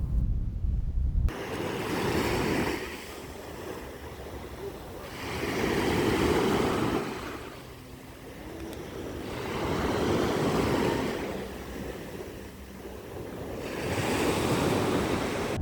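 Ocean waves break and wash on Gyeongpo beach in Gangneung, loud rolling surges returning every few seconds, with wind buffeting the microphone.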